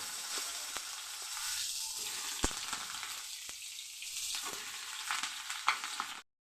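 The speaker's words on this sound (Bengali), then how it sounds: "আলুটা আমার ভাজা হয়ে গেছে এখন আমি ডিঙ্গাগুলি দিয়ে দিচ্ছি" Ridge gourd sizzles as it goes into a pan of fried potatoes, with a steady close frying hiss broken by a few sharp clacks and scrapes of stirring.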